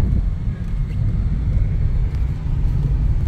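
A 2016 Suzuki Baleno running on LPG, its engine a steady low rumble at low revs, continuous and fairly loud with no voices over it.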